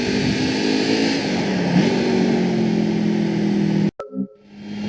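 A racing car engine in Gran Turismo on the PSP, a steady high droning whine that dips briefly as it shifts, then climbs again before cutting off abruptly and restarting with a fresh rev, loud and up close.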